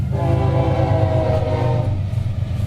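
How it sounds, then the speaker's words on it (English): A nearby train rolls past with a loud, deep rumble while its horn sounds in sustained tones, the horn thinning out toward the end as the rumble continues; no one speaks. "There's an obnoxious train."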